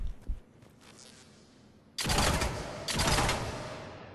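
The Incisor rifle in Mass Effect 3 fires from the hip in two loud, rapid rattling bursts of burst-fire, close and sharp, after a quieter stretch with a couple of faint earlier pops.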